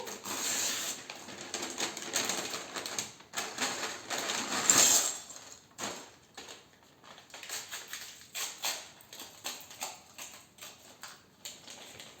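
Plastic parts bag from a Harry Potter Knight Bus building set being torn open and handled, with crinkly rustling, tearing swells and scattered small ticks and rattles, close and fairly loud.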